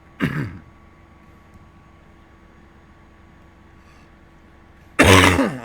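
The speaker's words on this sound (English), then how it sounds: "I seem to have a bit of a cough tonight." Two loud, close coughs bracket a stretch of quiet room hum, one at the start and a harsher one near the end.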